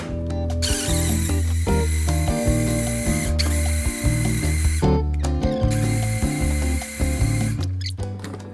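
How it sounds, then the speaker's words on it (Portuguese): A kitchen blender runs continuously, blending taro (inhame) with three cups of water, its loud steady motor whir with a rattling, pulsing texture throughout, briefly dipping and surging a few times. "agora é só bater aqui no liquidificador"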